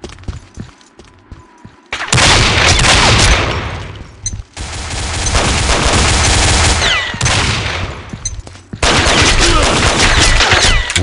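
Sustained pistol gunfire from the online shooter game Combat Arms, dense overlapping shots from several players in long loud bursts separated by brief lulls, near and constant.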